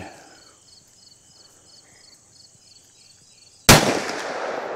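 A single sharp gunshot from a .327 Magnum revolver firing self-defense rounds into ballistic gel, loud and sudden after quiet outdoor ambience with chirping insects, its report ringing out briefly.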